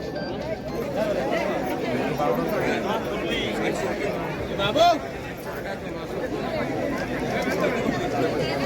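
Busy crowd of tourists, fish sellers and buyers at the seaside fish market in Malvan, Konkan, a constant close babble of overlapping voices and bustle with no pauses, one person speaking clearly above the hubbub.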